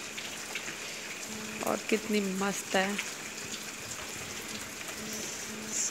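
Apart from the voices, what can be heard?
rain falling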